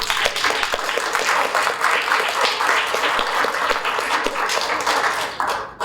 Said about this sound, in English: So if we could give a round of applause to Jesse Connerly,